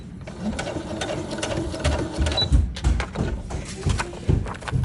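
A sewing machine back stitching while sewing flip-out pockets runs as a loud, steady, close whir with rapid rhythmic stitch pulses that shift in speed, and there is no talk over it.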